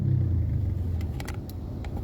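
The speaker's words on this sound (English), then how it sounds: "Your bike sound like it constipated." A small motorbike engine revs close by in a rough, strained burst, with a steady low rumble and a few brief higher flutters.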